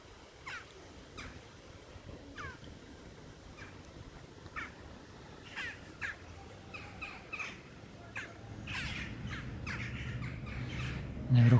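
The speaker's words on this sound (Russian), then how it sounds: "Наверху кричали птицы." Crows caw repeatedly in the distance, scattered harsh calls over a steady outdoor hum, with a low voice-like murmur near the end.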